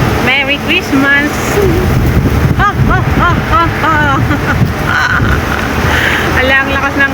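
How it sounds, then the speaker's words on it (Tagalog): Heavy wind buffets the microphone in a constant loud roar while a person talks over it. "ang lakas ng hangin."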